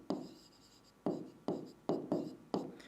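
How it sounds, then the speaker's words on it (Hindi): Pen strokes scratching across paper while a definition is handwritten for a science exam answer, with six distinct bursts of writing separated by brief pauses, close and fairly quiet with no talking. "तो मैं यहां पर बस लिख देता हूं परिभाषा"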